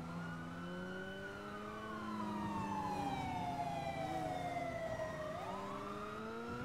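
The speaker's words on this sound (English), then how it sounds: "Oh, I hear sirens." Several police sirens wail at once in GTA 5, their pitches sliding up and down steadily against a constant engine drone.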